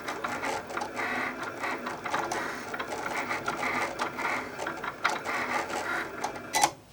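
Cricut Explore machine cutting printable vinyl on a mat set to the vinyl setting, a continuous mechanical whirring and clicking of the carriage moving back and forth, with a sharper knock near the end.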